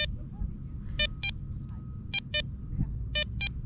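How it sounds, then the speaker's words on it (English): A Garrett Ace Apex metal detector gives short electronic beeps in pairs over a target in water, repeating every second or so over a low background murmur. "It's giving 2 distinct beeps."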